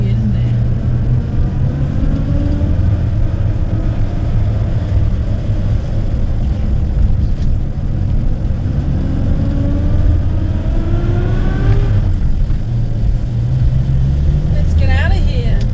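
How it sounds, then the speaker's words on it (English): A Rover P4 drives in first gear, its engine droning loud and close with slowly rising gear whine, interrupted by brief shifts, while people talk over it. "First gear sounds like a reverse gear, doesn't it?"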